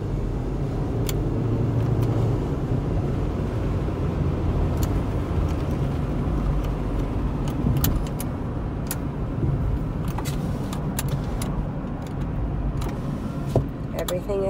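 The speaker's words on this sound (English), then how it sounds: "let it go through the gears, make sure the transmission's sounding good" A 2012 Hyundai Elantra Touring drives through its gears, its engine and road noise forming a steady, moderately loud drone with small knocks and clicks from the cabin, and no one speaking.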